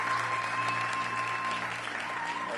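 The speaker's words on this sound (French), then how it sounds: "On les acclame ensemble." A church congregation applauds a family presenting their newborn son, steady sustained clapping from many hands filling the room, with a faint tone ringing through it.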